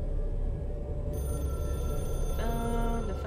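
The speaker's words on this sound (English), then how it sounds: "The phone is ringing." An in-game telephone in Control rings with a repeated electronic trill over a steady low rumble of ambient noise, close and moderately loud, with no talk.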